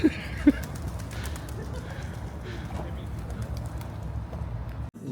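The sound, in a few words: pigeons cooing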